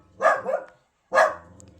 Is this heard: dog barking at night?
yes